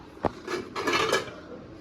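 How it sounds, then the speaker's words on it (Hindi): Metal utensils and pots are set down in a home kitchen, giving a sharp clank followed by a cluster of ringing clatters and scrapes close by, with no talking. "ये हमारे इधर बर्तन रखे होते हैं"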